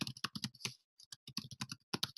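Rapid bursts of keystrokes clatter on a computer keyboard, close and crisp, in uneven clusters with a short pause partway through.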